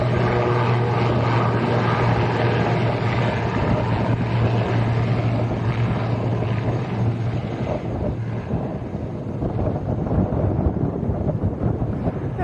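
A Binter airliner rolls for takeoff at Lanzarote Arrecife airport, bound for Gran Canaria, as a steady broad roar with wind buffeting the microphone, holding loud throughout and easing slightly toward the end.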